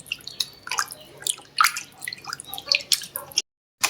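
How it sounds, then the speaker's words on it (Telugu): Raw chicken being washed by hand in a bowl of water, close wet splashes, drips and squelches in an irregular rhythm, ending in a short silence. "చికెన్ నీళ్ళతో కడగండి"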